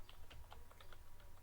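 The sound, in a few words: typing on a computer keyboard in Excel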